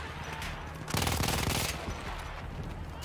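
Gunfire in the video game Battlefield 1: rapid bursts of automatic weapon fire, loud and dense, with a sharper close burst midway over continuous battle noise.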